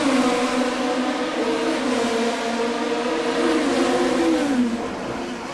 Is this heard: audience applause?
no